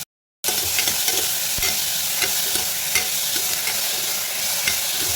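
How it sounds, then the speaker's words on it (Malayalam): Green peas curry mixture with salt sautéing in a pan, a continuous close, loud sizzle with occasional spoon scrapes and stirring knocks throughout. "ഇനി ആവശ്യത്തിന് ഉപ്പും ചേർത്ത് നന്നായിട്ട് നമ്മൾ ഇത് ചെറുതായി ഉപ്പ് നന്നായിട്ട് നമുക്കൊന്ന് വഴറ്റാം"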